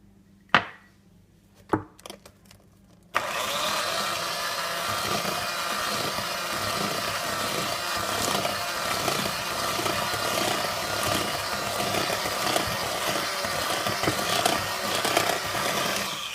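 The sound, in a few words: mixing flour into butter cake batter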